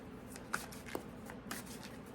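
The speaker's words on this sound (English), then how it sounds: "I have to shuffle these cards some more" Deck of cards being shuffled by hand, a soft, continuous riffling and sliding with a couple of small snaps, quiet and close with no talking.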